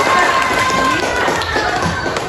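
Students in an Indonesian school class break into steady group applause after their teacher praises their project work, a dense, continuous patter of clapping filling the room for a couple of seconds.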